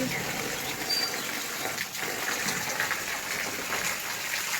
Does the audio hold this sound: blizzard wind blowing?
no